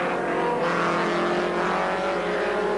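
Touring race cars at Silverstone in the 1987 RAC Tourist Trophy, a dense, loud roar of several engines revving together with a steady high mechanical whine, continuous with no voices.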